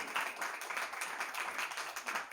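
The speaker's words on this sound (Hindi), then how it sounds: "ताली नहीं बजाएंगे प्रभु के लिए?" A church congregation applauding for the Lord, a faint, steady patter of many hands clapping heard at some distance.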